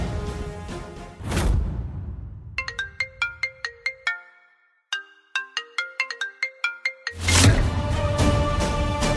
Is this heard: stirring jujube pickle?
no